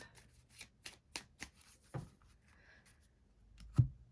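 Tarot cards being shuffled by hand, a run of quick, soft riffling bursts and papery slaps close by, ending in a louder thump of the deck, with no talking.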